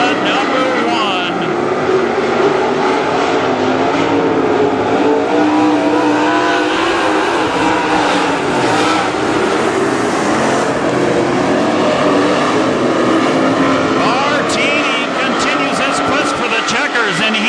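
WISSOTA modified race cars charge around the Granite City Speedway track in a heat race, a loud, continuous engine roar that surges and drones throughout, with a voice over the noise.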